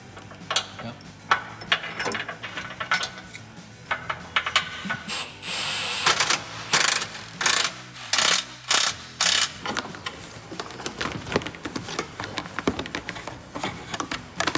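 Ratchet wrench tightening a bolt on a 2023 Honda Pilot during a 2.5-inch HRG Offroad lift kit install, with bursts of rapid close clicking strokes separated by pauses and some shuffling, no talk.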